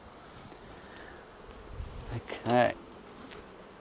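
Honey bees buzz steadily around an open beehive under inspection, a close, dense hum with a louder pass near the microphone; a person briefly speaks.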